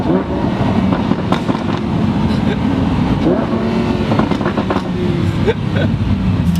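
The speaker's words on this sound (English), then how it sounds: "It's like so much popcorn every time you downshift." A Lamborghini engine drones steadily from inside the car, with sharp exhaust pops and crackles breaking through on the downshift, loud and close throughout.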